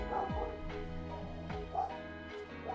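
A person's voice imitates a dog, giving about three sharp, yelping barks at roughly one-second intervals, close and fairly loud against a quiet background.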